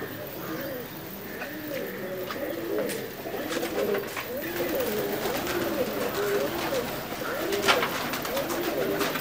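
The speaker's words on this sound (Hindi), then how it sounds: "जैसा आप देख रहे हैं ये अब्दुल्ला भाई के कबूतर हैं सारे," Pigeons on a rooftop loft coo in repeated low rolling calls, several birds overlapping close by, with scattered wing flaps and clicks, while someone talks over them.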